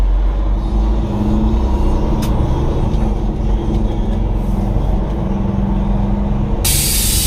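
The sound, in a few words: car motor while driving at night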